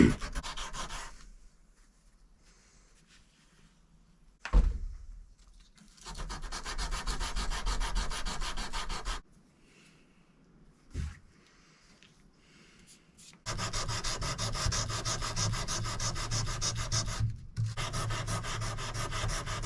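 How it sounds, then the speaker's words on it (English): A Damascus steel fish filet knife is hand sanded indoors in bursts of close, raspy back-and-forth rubbing, separated by short quiet pauses, with a sharp tap between strokes. "Time to start hand sanding"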